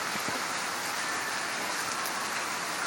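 Heavy monsoon rain pours down in a dense, continuous hiss of drops striking surfaces, steady and loud throughout with no voices.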